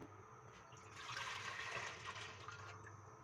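Full-cream milk, 1.5 litres, being poured into a deep cooking pot on a lit stove, a steady, close liquid rush that swells and then tapers off, heard alone without talk.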